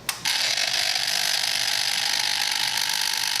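On a Kawasaki Z1000, the sub throttle servo of the throttle body cycles with a steady whirring, grinding mechanical buzz that starts after a brief click and runs continuously for a few seconds, close and fairly loud.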